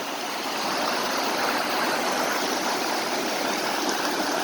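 Rushing stream water pours steadily near waterfalls in a wooded area, a dense, continuous broadband roar close by with no break and no voices.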